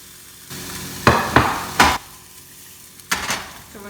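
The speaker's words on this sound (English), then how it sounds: "I'm just going to throw in first some chopped onion" Chopped onion tipped into a hot pan for fried rice, a soft hiss under a few loud, close scrapes and clanks of a utensil against the pan.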